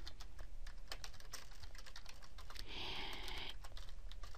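Rapid typing on a computer keyboard while entering an outline in MS Word, a steady close run of light key clicks with a brief burst of louder, denser tapping near the end.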